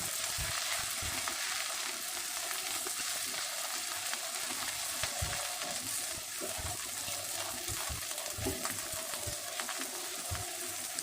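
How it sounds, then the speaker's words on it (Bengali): Kala bhuna spice mix from a Radhuni packet fries in a pan, giving a steady close sizzle with scattered scraping stirs, probably over onions, throughout. "মশলাটাকে ভালো করে ভেজে নিচ্ছি"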